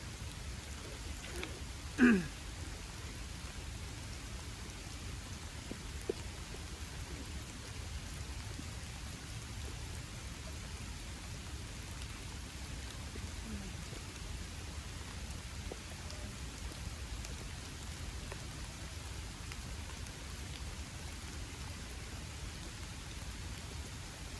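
Rain falling outdoors, a faint, steady hiss of drops that continues evenly throughout, with a single soft knock near the start.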